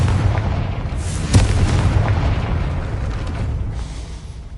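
A Confringo blasting spell going off in Hogwarts Legacy, a deep booming explosion with a sharp burst near the start that rolls into a sustained low rumble and slowly fades.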